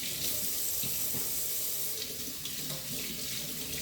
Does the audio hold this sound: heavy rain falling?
no